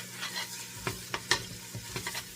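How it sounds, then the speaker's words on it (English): A spoon stirring tomato paste into a pot of pasta e ceci, soft scraping strokes in an uneven rhythm over a faint sizzle, close and quiet with no talk. "And then give this a nice little mix."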